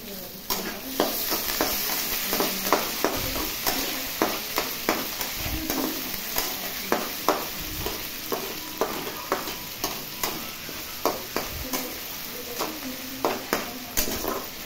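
Green peas frying and being stirred in a pan while making upma, a steady sizzle broken by regular scraping strokes of a spoon against the pan, close and continuous.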